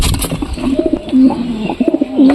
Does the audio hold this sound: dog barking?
no